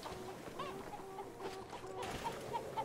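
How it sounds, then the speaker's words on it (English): Chickens in the video game City of Brass cluck in short, repeated bursts over a steady ambient game background. "Wow, these chickens are everywhere."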